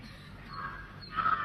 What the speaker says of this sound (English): the noise of the crow